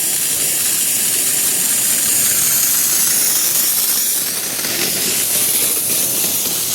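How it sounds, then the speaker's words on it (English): Water sprayed out under air pressure from an inground lawn sprinkler head during a winterization blowout, a steady loud hissing rush that holds without a break. "It's going to be a moment for them to pump out all their water."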